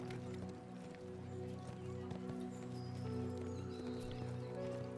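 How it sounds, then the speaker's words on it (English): A horse's hooves clip-clop along a dusty road toward a Wild West village, soft and steady beneath a calm, continuous music bed. "Dust rises briefly under your horse's hooves before settling back down."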